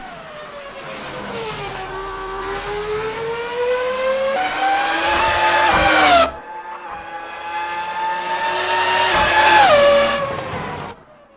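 The Seat Leon TCR race car in Assetto Corsa, a loud, close engine revving through the gears with rising pitch, a sharp lift-off, then climbing again before cutting off, no speech.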